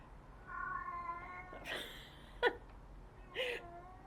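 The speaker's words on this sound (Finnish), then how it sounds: "Kissa." A cat meows several times, a drawn-out wavering cry followed by shorter, sharper calls, close and fairly clear over a quiet background.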